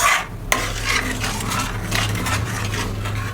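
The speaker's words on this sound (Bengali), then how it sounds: "এবার নেড়ে নেড়ে ফুটিয়ে কমিয়ে নেব।" Milk mixed with milk powder simmers in a pan while a spoon stirs it, a steady bubbling sizzle with light scraping and one clear clink near the start.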